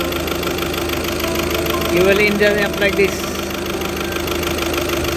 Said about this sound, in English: Actually it's running, but it has a problem with the head gasket.